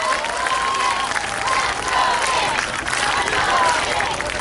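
Crowd at an outdoor campaign rally in Gwanghwamun, Seoul applauds: a loud, continuous wash of clapping and crowd noise, with faint whistles or cheers over it.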